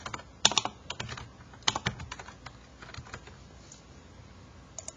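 Keys clatter on a computer keyboard as a short note is typed, with clustered bursts of clicks in the first two seconds and lighter, sparser taps trailing off near and fairly quiet.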